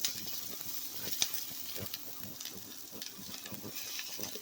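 Capsicum fries in a pan for white sauce pasta, a soft, continuous sizzle broken by repeated scraping and tapping as a spoon stirs the vegetables.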